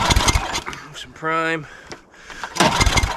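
A Murray snow blower being started with the choke on: a short burst of rising, harmonic engine cranking in the middle, bracketed by talk before and after.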